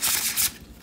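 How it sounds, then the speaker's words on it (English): Oracle cards are bridge shuffled, a quick burst of riffling flutter followed by a softer settling as the deck comes together, close and fairly quiet. "see if we can do the typical bridge shuffle."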